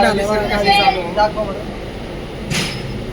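A local commuter train rattles along steadily, its low rumble filling the background while muffled voices murmur nearby.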